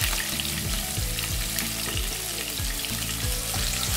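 Chopped green onion whites fry in oil with cumin, a loud continuous sizzle with regular bubbling pops and crackles throughout, no voices.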